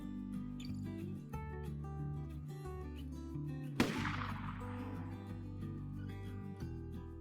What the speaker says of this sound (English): Hearing a gunshot in the morning west of me